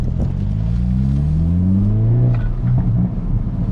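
Hyundai Elantra N four-cylinder engine revving loudly with rising harmonic sweeps, then crackling exhaust pops and burbles near the end, close and continuous.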